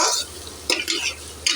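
Chopped tomatoes are stirred into a katla fish head curry in a pan, with three short scraping strokes over a low sizzling hiss.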